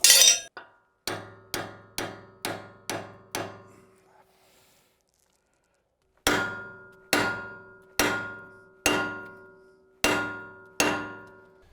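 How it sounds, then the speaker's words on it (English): Hammer blows ring out on a steel wedge during an excavator broken-pin repair, a quick run of six sharp clangs, a pause, then six more evenly spaced ringing strikes. "Take an incline plane and hammer on it."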